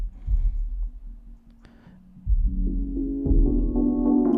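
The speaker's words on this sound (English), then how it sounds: "So here's the reverb." Reverb from a Noise Engineering Desmodus Versio Eurorack module washes over throbbing, humming synth tones. Its sustained tails swell louder and fuller in the second half, with no voices.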